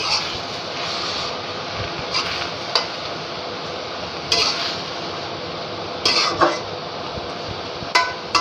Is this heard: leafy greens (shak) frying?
yes